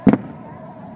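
Blasts from rockets and air-defence interceptions over Ashkelon, one sharp loud double bang near the start, followed by a low rumbling tail that fades into background noise.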